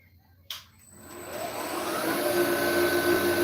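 A milling machine starts up with a sharp clunk, then a steady mechanical whine and a high cutting tone from a carbide end mill at 3,000 RPM build and hold, loud and continuous.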